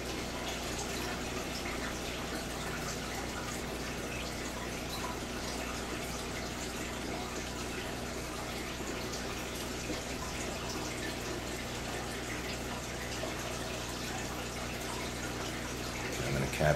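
Liquid solution swirled in a flask during a titration makes a continuous, even washing hiss that holds steady throughout.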